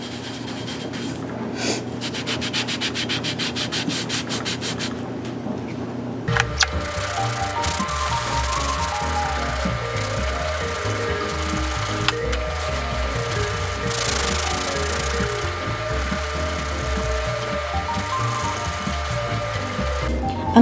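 A stainless steel pot bottom with hard water spots is scrubbed by hand with vinegar, baking soda and salt, making a close, rhythmic rubbing and scraping that continues steadily after a brief, different opening sound.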